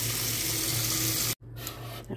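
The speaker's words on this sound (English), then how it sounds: "Just gonna fill the bowl back up again and again" Tap water runs steadily into a bowl used for washing homemade butter, a close, loud gushing stream that cuts off briefly and then resumes.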